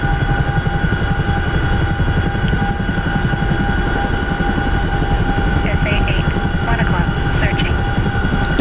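A Chinook helicopter in a military video game drones steadily and loudly throughout, its constant rotor and engine roar never letting up.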